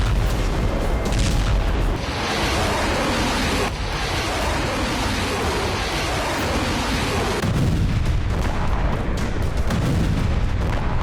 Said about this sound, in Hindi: ईरान के राष्ट्रपति इब्राहिम रईसी के इशारे पर हिजबुल्लाह ने इजराइल पर रॉकेट और बड़े मिसाइल हमले तेज कर दिए हैं।